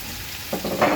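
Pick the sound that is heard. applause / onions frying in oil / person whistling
onions frying in oil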